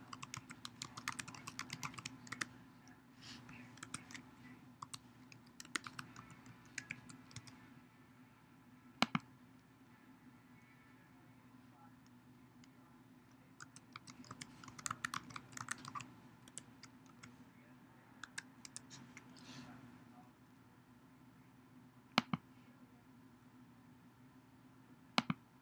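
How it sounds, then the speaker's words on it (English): Someone types a user ID and password on a computer keyboard in a quiet room, with bursts of quick soft key clicks separated by pauses and a few sharper isolated taps, no speech. "I'm typing in my user ID and password"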